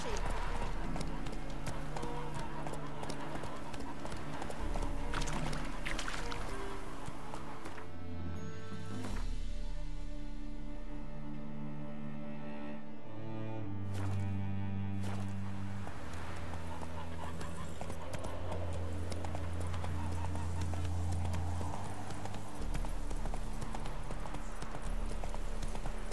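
Horse galloping in The Witcher 3, steady rhythmic hoofbeats running throughout with music and a voice speaking over them.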